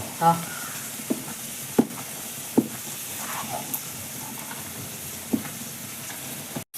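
Onions fry in hot oil inside a pressure cooker, a steady sizzle broken by a few sharp taps and scrapes of a spoon at irregular intervals, close and continuous, with no clear voices.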